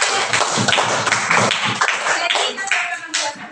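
Scattered clapping from a classroom of students, irregular claps of moderate loudness that thin out toward the end, with faint voices mixed in.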